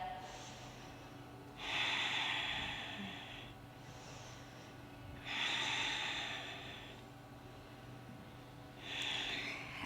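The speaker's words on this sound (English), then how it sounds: "Taking 3 more breaths here." A person breathing deeply while holding a hip and glute stretch during a workout, three slow, close exhales through the nose about every four seconds.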